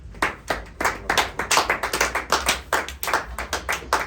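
A church congregation claps together in a lively, rhythmic burst of applause acclaiming the word of God, loud and close, with no talking over it.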